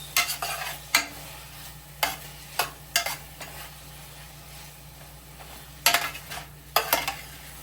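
Beef browning in a pot for Jamaican stew beef gives a soft, quiet sizzle, broken by several sharp spoon scrapes and clinks of stirring against the pot.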